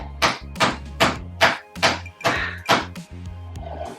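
A mallet pounds chicken meat flat in a kitchen, about nine dull, evenly spaced thuds in quick succession, close and fairly loud with no talk.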